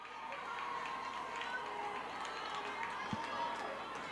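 Crowd and dugout at a Trinity University softball game, a steady distant murmur of fans and players with scattered cheers, under a commentator's voice.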